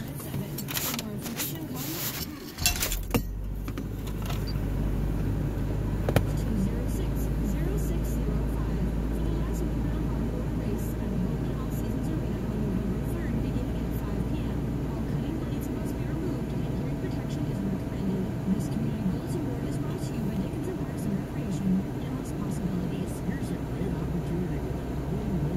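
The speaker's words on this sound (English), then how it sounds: "That's a cold start, 2 pumps of the gas pedal." A 1990 Mazda B2200 pickup engine turns over and settles into a steady, even idle after a cold start, a continuous low rumble running close by with a brief sharp burst of cranking at the start.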